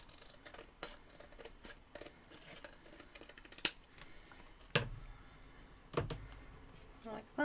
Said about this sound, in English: And then we can just cut off this overhang here.